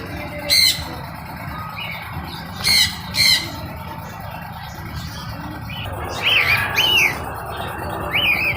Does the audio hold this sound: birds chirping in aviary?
yes